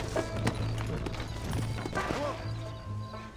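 Horse hooves clip-clop at a steady walking rhythm in the Western video game Red Dead Redemption, close and moderately loud beneath voices talking and ambient game sound.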